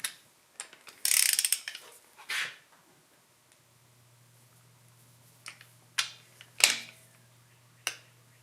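A wrench backs off the head bolts on a John Deere 755 tractor, giving short ratcheting clicks and sharp metallic snaps in scattered bursts, with a faint low hum under the later part.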